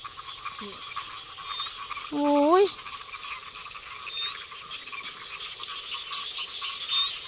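Frogs croak at dusk near a fishing-net spot in rural Isan, Thailand: a short rising, ratcheting croak stands out over a constant chorus of insects and distant calls, with a brief exclamation nearby.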